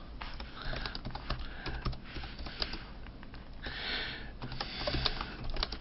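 Rapid, irregular computer keyboard typing while a short personal bio is entered on a website form, continuous clicks close to the microphone with no voices.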